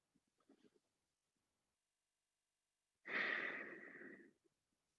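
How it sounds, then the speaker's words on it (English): One long, deep breath out during a stretching exercise, a close breathy sigh lasting over a second after a quiet pause, with faint soft sounds before it. "One more breath here."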